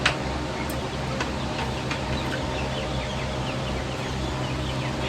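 Seven-week-old chicks kept with chickens and ducks in a shaded outdoor run, soft clucks and peeps scattered over a constant low background hum, with no talking.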